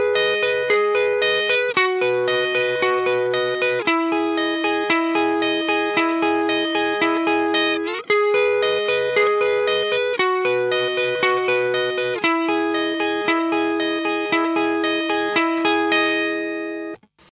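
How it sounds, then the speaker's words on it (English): A clean, dry electric guitar plays a repeating arpeggiated chord pattern, bright ringing notes with no added echo, alone and steady, before a Strymon El Capistan delay is applied. "that's the dry guitar"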